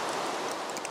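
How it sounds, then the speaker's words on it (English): Rainfall in the Minecraft video game, a steady, even hiss of falling rain heard up close and alone, with faint scattered higher ticks. "and it's raining."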